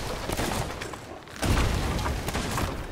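Heavy ship cannon fire in Sea of Thieves booms in a dense, rumbling barrage, blasts overlapping into a continuous roar with a brief lull midway.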